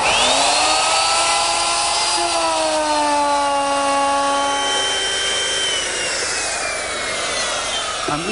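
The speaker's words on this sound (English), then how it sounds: "here I'm using a 3/4 inch radius router bit to ease the front of the seat" A router fitted with a 3/4 inch radius bit eases the front edge of a wooden rocking chair seat, a loud high motor whine with rising and falling pitch as the bit cuts, close and alone.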